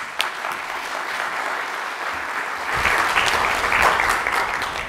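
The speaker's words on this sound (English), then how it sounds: "Let's give him a round of applause." A room of attendees at an HR workshop applauds an incoming presenter, steady and moderately loud throughout, swelling slightly in the second half with no talking.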